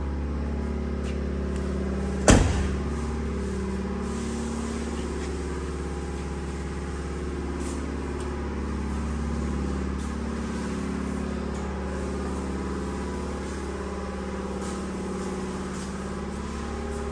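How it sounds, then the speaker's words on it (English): A big old truck driving, its engine humming in a steady, close cabin drone with a brief sharp knock early on, no one talking over it. "I have to if I'm driving a big old truck like this."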